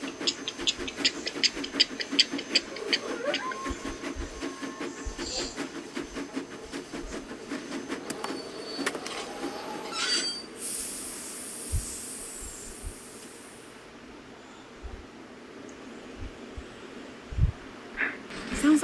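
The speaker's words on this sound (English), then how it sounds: "Sounds like the train's leaving." Departing train in the video game Last Train to Bluemoon Canyon, a rumbling, clattering rail sound with hissing bursts that thins out and fades, followed by a brief high steam-like hiss.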